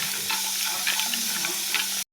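Peeled peanuts are tipped into a pan of fried coconut and stirred, giving a close, continuous dry sizzle with scraping and rustling that cuts off abruptly.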